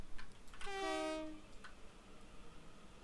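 A BR Class 700 electric train on the Brighton Main Line sounds a rising two-tone horn as it pulls away, heard from a distance with a faint low rumble beneath and otherwise quiet surroundings.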